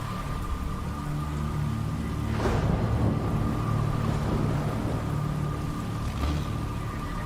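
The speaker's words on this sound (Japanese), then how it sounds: "おー、こんな雨の日にボートに乗ってどこへ行く？" Rain in the detective game Jenny LeClue Detectivu, a steady soft hiss under a low hum with faint rushing swells, even and continuous, no talk.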